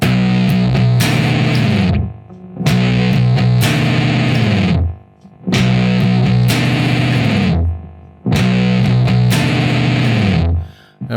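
A distorted electric guitar plays a stoner rock riff with octaves and slides, loud and close, repeating the same heavy phrase four times with short gaps between them and no talk.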